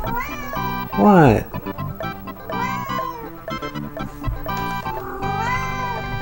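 A pet cat meows loudly and close, one long drawn-out cry and several shorter ones spaced across the stretch, with a person briefly speaking between them.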